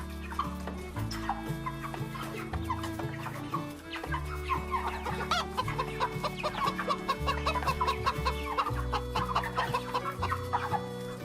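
Broiler chickens in a closed, modern poultry house keep up a dense, continuous clucking chorus over a steady low mechanical hum, with no talk.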